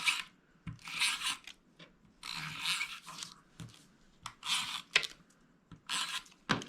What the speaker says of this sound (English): So I am going to take my tape runner